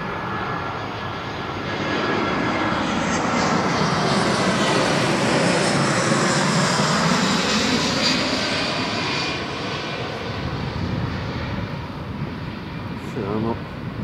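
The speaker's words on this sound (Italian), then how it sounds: "Siamo vicino all'aeroporto. Ecco l'aereo" A jet airliner passes near the airport by the English cemetery in Catania, a broad, loud roar that swells over several seconds, holds, then slowly fades, with a voice speaking faintly beneath it.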